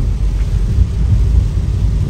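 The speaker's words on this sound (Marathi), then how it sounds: "तर पाऊस थांबणार नाही असं वाटतंय" Heavy monsoon rain pours during a drive through the Sahyadri hills on the road from Pune to Khandi Point. A loud, continuous low rumble and drumming of rain fills the clip without speech.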